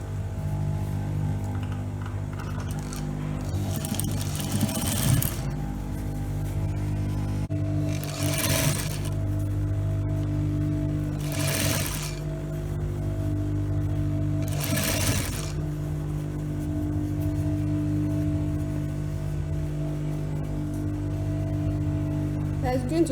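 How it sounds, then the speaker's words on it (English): A sewing machine stitches a sleeve onto a blouse, its steady motor hum broken by several short bursts of faster stitching, heard up close with a quiet room tone beneath. "So I'm starting the sewing from the side."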